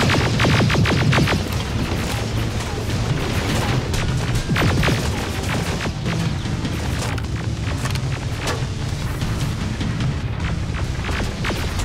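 Heavy booming blasts and crashing impacts from grenade explosions in the Terminator: Resistance combat game, a dense, continuous barrage of loud thuds and rumbling over nearly twelve seconds, no talk.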